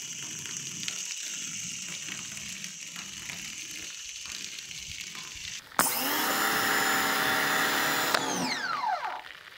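A Ryobi pressure washer with its soap attachment starts up abruptly partway through, giving a loud steady spraying hiss with a pump whine that drops off near the end, after quieter background noise.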